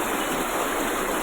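Water rushing out through five opened gates of the Kali Sindh dam, a steady, loud, broadband roar with no pauses, like a heavy torrent heard up close.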